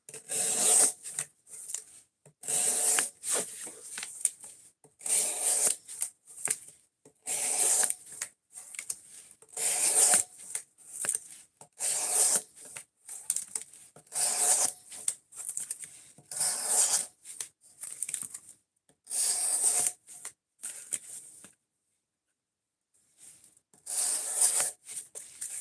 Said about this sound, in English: We're looking to see how much cardboard we can cut up with this knife